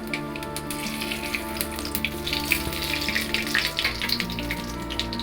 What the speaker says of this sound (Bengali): প্রথমেই দিয়ে দিচ্ছি একটু গোটা গরম মশলা, আর দেবো ফোড়নে একটু 5 ফোড়ন, আর দিচ্ছি একটা তেজপাতা